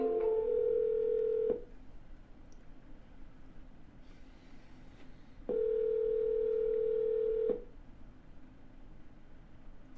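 Telephone ringback tones during an outbound cold call, two long steady electronic tones about two seconds each separated by a pause over a faint background hum, fairly quiet and with no talking.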